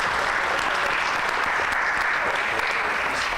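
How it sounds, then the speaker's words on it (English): A short burst of steady audience applause at a community intergenerational dialogue event, dense even clapping from a crowd that holds at one level throughout. "Can we give her another round of applause?"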